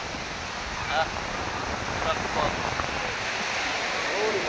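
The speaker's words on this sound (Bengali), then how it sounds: "ঢেউটা এখন একটু ছোটো ঢেউ আসতেছে" Small ocean waves wash onto the beach at Cox's Bazar in a steady, hissing surf, with a person talking over it.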